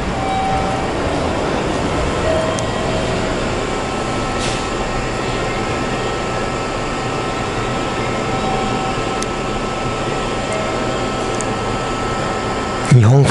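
A JR local train bound for Akita idles at Konoura Station, a small-town stop in Nikaho on the Sea of Japan coast, giving a steady rumble and hum throughout with brief faint clanks and a voice talking over it.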